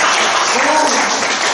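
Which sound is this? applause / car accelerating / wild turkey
applause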